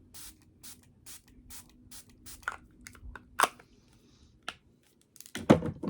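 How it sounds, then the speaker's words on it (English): A face mist is sprayed during a makeup routine, heard as a few short, close hissing bursts separated by quiet gaps and soft handling noises. "Spraying this again because I have dry skin"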